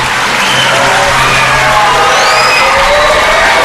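A packed hall at a 15 August Independence Day celebration in Mangrol erupts in loud, continuous applause mixed with cheering, whoops and children's shouts, filling the whole stretch at close range.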